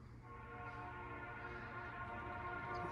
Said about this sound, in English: The soothing sound of a train going by outside.